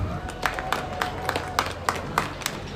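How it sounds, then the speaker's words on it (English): Applause for exhibitors at a junior market swine show, a steady moderate clapping from a crowd in an arena, with a few sharper individual claps popping out in a loose rhythm. "Congratulate these exhibitors with a big round of applause"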